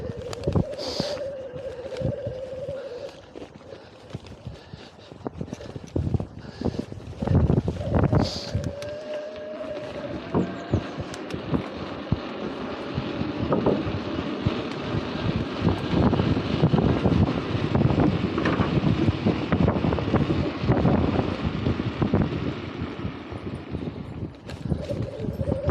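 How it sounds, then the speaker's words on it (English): Wind blowing along a riverside trail where the bank has washed away, heard from an e-bike rider's microphone: scattered knocks and rattles at first, then a steady, rising roar of wind buffeting. "Oh, it's windy."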